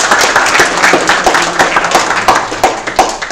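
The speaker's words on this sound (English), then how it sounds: "applause for our Dota guys" Steady applause from a group, dense rapid clapping with a few sharper claps standing out, fairly loud and close, no talking.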